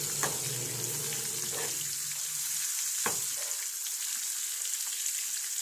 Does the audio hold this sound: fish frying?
yes